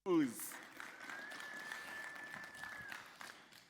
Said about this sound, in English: Give yourself a big major round of applause